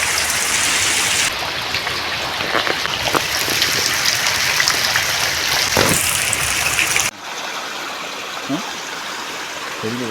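Steady heavy rain hisses and patters close by, then cuts to a quieter scene with a faint voice.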